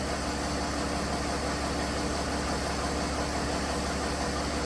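A 2008 Mercedes-Benz ML320 engine, which has a hesitation and surge fault under heavy acceleration, idles with a steady, even drone and a faint mechanical tick, close up and unchanging throughout, with no talking.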